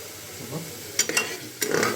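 Turmeric powder cooking in a pan for Odisha-style dalma, with a soft steady sizzle broken by a few sharp clinks and scrapes of a spoon stirring against the pan.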